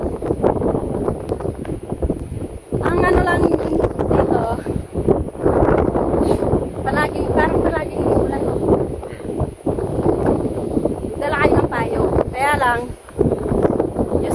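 Strong wind buffets the microphone at Sanxiantai Dragon Bridge in Taiwan, a constant rough rumble and gusting roar under people talking throughout.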